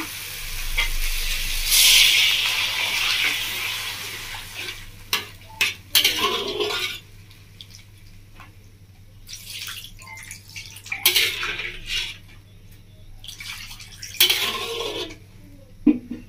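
Water poured into sizzling masala in a pan for a Bengali village-style bata fish curry, with a loud hissing splash at first, then intermittent sizzling, stirring and clinks of a utensil against the pan.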